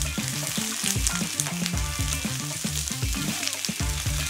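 Leeks hit hot oil in a pan and fry with a bright, continuous crackling sizzle, punctuated by rhythmic scraping stirs close by and no talking.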